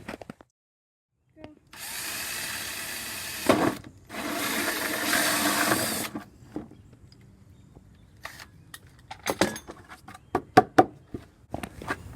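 A power drill bores a hole for PVC gray water drain connections in two steady whirring runs of a few seconds each, followed by scattered clicks and knocks as the drill is handled.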